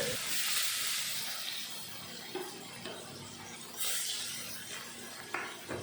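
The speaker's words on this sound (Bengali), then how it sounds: "তেলের উপরে দিয়ে দিলাম হলুদ নুন মেখে রাখা মাছগুলো" Turmeric and salt coated fish pieces, belly cuts, frying in hot oil in a kadai, giving a steady loud sizzle and hiss with bursts of spitting and a few faint clinks, no talking.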